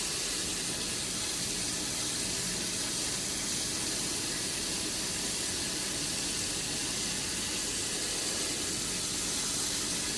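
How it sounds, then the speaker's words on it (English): Steady cold tap water pours without a break onto boiled rice, a loud, even splashing rush close by. "Now this is cold water, so I can just stop the cooking process."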